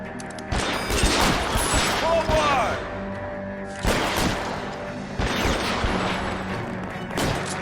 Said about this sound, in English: I'm getting some nice shots with this weapon.